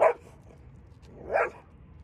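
A reactive Schnauzer barks at another dog during training, giving two loud, close, separate barks about a second and a half apart with quiet in between.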